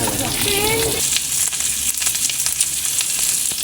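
Daing, dried fish, frying in a pan, a loud, close, steady sizzle and crackle with sharp spitting pops throughout, and a brief voice at the start.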